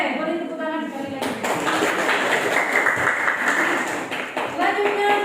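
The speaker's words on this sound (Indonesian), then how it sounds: "Oke, boleh tepuk tangan sekali lagi." A classroom of students applauds, a burst of steady clapping that runs for several seconds, fairly close, after the teacher's voice.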